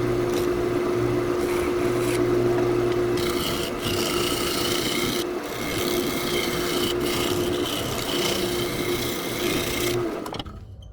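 Continuous raspy rubbing of sandpaper against a piece of spalted crab apple wood spinning on a lathe, over a steady motor hum, with brief breaks in the friction.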